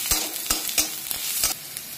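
Onion, cumin and coriander frying in a pan, loud close sizzling with several quick rhythmic scraping strokes of a spoon stirring the spices.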